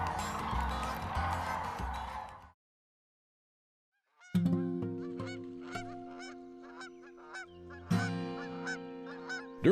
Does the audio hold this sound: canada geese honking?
yes